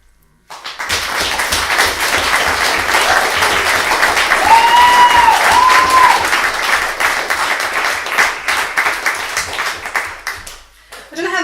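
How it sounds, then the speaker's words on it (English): An audience claps and cheers in a long sustained burst of dense applause, starting abruptly and holding steady before thinning toward the end, with a brief whistle-like tone rising above the crowd midway. "This is the third one in that particular cheering sequence."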